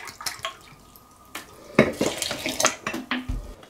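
Clean bottled water poured into a white borscht sourdough starter with sliced garlic and marjoram, uneven splashing and trickling with a few sharp clinks of a container, close and fairly loud.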